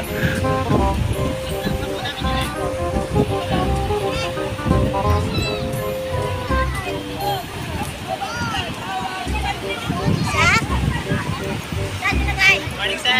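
Strong ocean waves break on a beach at Real, Quezon, a continuous rolling surf heard beneath several people chatting and calling out nearby.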